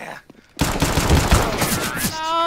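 Rapid gunfire bursts in Counter-Strike on the de_Anubis map, a dense volley of close shots starting after a short quiet moment and ending with a high ringing tone.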